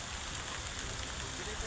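Steady rain falls outdoors in a dense, even hiss with no pauses, close and fairly loud and filling the whole stretch.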